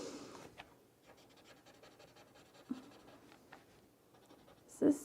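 Pencil sketching noses on paper, a soft scratchy scribbling that runs quietly through the clip, with a couple of faint louder scrapes and brief breathy sounds close to the microphone.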